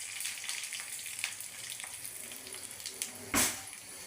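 Garlic and dried red chillies frying in hot oil as a tempering for tomato dal: a continuous close crackling sizzle with a brief louder spitting burst near the end, no voices.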